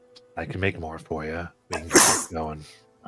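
A single sharp sneeze from a person bursts out between stretches of speech, loud and close.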